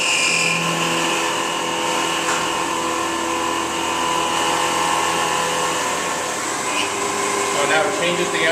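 An automatic cutting machine fed with coolant runs a continuous loud mechanical whine and hum, its tones shifting in pitch as the spindle speed changes for a finish cut.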